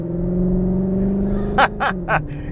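The 2025 Cupra Formentor e-HYBRID plug-in hybrid SUV's engine hums steadily while driving, with a low, layered drone, then three quick sharp bursts like gearshift crackles or pops near the end.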